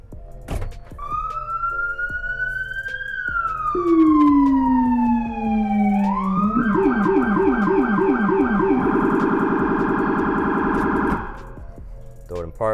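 A police patrol car siren sweeps slowly up and down in a long wail, then switches to a faster warbling cycle, loud and close.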